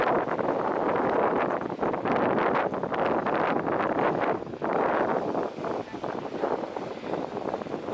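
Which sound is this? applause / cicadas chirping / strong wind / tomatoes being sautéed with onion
strong wind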